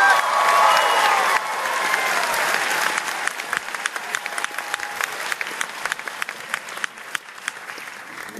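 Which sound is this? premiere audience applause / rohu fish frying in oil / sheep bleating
premiere audience applause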